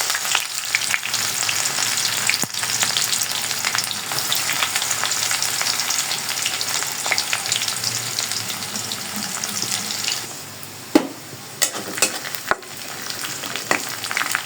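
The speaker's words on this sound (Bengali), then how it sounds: "পেঁয়াজটা ভাজা ভাজা হয়ে গেছে" Onions sizzle steadily in hot oil with bay leaf, cardamom, cinnamon and garlic for a fish-head muri ghonto, a close, continuous frying hiss broken near the end by a few stirring clinks.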